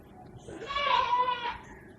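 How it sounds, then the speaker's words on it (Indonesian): A goat lets out a single drawn-out, wavering bleat of about a second, moderately loud and a little distant, over a faint steady background. "ada suara-suara kambing, ayam, burung, dan lain sebagainya"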